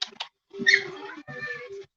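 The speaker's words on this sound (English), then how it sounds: "That's my cat." A pet cat, a big fat male, meows several times in short close calls, with a brief pause between the first chirps and two longer drawn-out meows.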